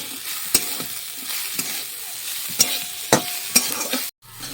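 Coconut fries in a pan with turmeric, salt and a little sugar, giving a light sizzle punctuated by sharp scraping knocks as a spatula stirs, ending in a brief silence.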